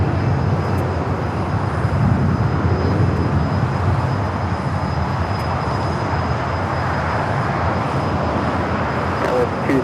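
A jet airliner at LAX takes off as a loud, steady broadband engine roar that holds throughout, thick with low rumble and carrying a faint high whine.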